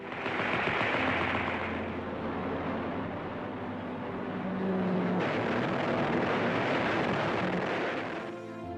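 Machine gun fire rattles in sustained rapid bursts, dense and loud and mixed with a droning aircraft engine, in a wartime scene of gunners shooting down barrage balloons.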